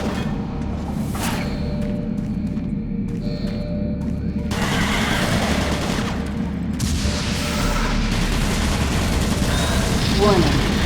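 Automated turret guns in DOOM 3 VR let loose rapid bursts of gunfire and heavy thumps in a dense barrage. A synthetic warning voice keeps announcing over the shooting.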